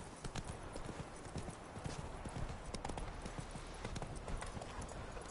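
Horse hooves clip-clop in The Witcher 3, a quick, regular trotting rhythm heard close up and fairly quiet, continuing steadily with faint ambient game sound behind.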